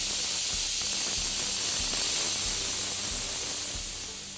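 Steam hisses hard and steady from a pressure cooker cooking khichuri, a loud continuous high-pitched rush that holds throughout and eases slightly at the end, with no talking.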